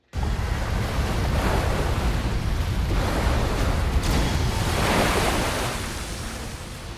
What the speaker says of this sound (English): multiple waves batter the inside of the cavern